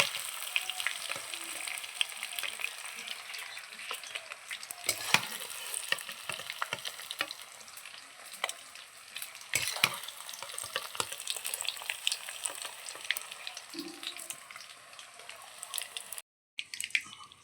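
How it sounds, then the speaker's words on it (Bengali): Paneer pieces frying in hot oil in a home kitchen, a dense continuous sizzle and crackle with occasional sharper pops and spatula scrapes, steady and close throughout with a brief drop near the end. "দেখো আমার পনিরটা ভাজা হয়ে গেছে"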